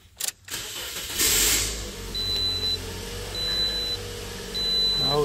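A 2009 Toyota Corolla with a rough-running fault and code P0352 cranks and catches, its engine then settling into a steady, fairly high idle while a dashboard chime beeps repeatedly.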